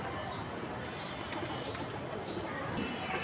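Pigeons, including Shafchila, Bagha and high-flying breeds, coo softly and repeatedly at a busy pigeon market, over a dense crowd murmur and faint voices nearby.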